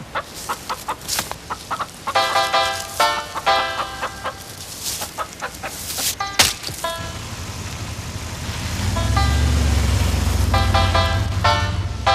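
Several chickens cluck and squawk nearby in quick, uneven bursts, and later a low, steady rumble builds beneath the last few clucks.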